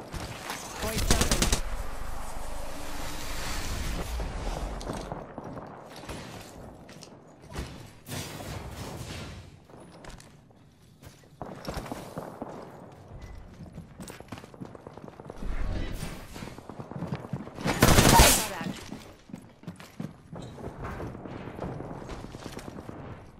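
Mastiff shotgun fire in the video game Apex Legends: loud, punchy bursts of shots break out repeatedly among clattering in-game effects and movement noise, with quieter stretches between the volleys.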